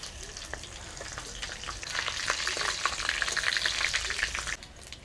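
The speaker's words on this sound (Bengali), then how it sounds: "ফোড়নটা ভাজা হয়ে গেছে" Dried red chilli, bay leaf, cumin and whole garam masala crackle and sizzle in hot mustard oil, with dense popping that grows busier and louder before easing off near the end.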